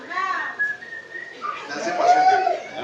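A person whistles a tune, starting with clear sustained notes, then turning busier with a stronger passage near the end; a voice may be faintly mixed in.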